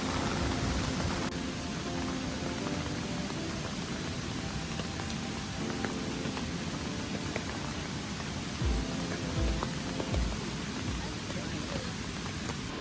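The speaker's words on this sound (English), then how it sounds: "It's 2 o'clock and it's raining." Steady rain falls at the Lata Beringin campsite, a dense even hiss of drops on surfaces throughout, with a voice speaking over it.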